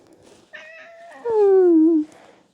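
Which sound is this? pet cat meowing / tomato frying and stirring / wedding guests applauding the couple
pet cat meowing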